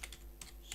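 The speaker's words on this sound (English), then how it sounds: "I got used to typing on a laptop" Soft keystrokes tapping on a desktop computer keyboard, a few quiet clicks at an uneven pace, faint and close.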